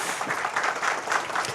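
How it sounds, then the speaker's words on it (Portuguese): An audience at an election candidates' forum applauds as the vice-gubernatorial candidate stands up, a short, even burst of many hands clapping together at moderate loudness. "se puder, até bater uma salva de palmas para ela"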